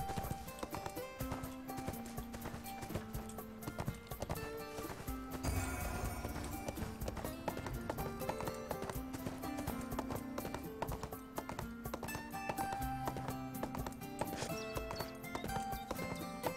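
Horse hooves clip-clop steadily in the video game ArcheAge, a quick rhythmic patter blended into a dense, continuous bed of game music and ambience.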